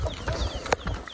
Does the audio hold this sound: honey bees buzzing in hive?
no